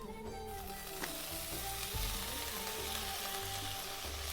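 Vegetable greens fry in a hot pan with onion and chillies, a steady loud sizzle running throughout with occasional stirring clatter, no voices.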